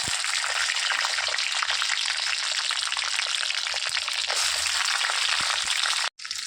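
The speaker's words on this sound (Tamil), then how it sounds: "சின்ன வெங்காயம் நல்லா வதங்கிக்கிட்டு இருக்குது." A handful of small onions fry in hot oil with cumin for a village-style rooster curry, a loud, steady, close sizzle that runs without pause and cuts out briefly just before the end.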